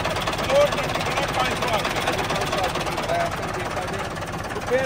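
A Massey Ferguson MF 385 4x4 tractor engine idles smoothly with a steady low rumble and even rhythmic pulsing close by, while someone talks over it.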